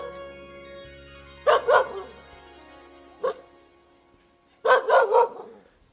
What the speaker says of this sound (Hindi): शेर भौंक रहा है ऊपर से